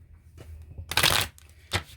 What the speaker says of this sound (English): I'm going to pull some of these masculine madness cards for the masculine.